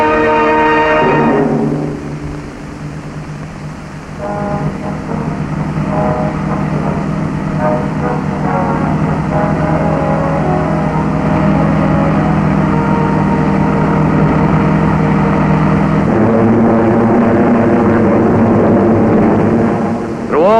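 Allied warplanes fly overhead in their thousands on daily bombing raids before the Normandy landings, a loud, steady engine drone throbbing without a break through the whole stretch, with music playing over it.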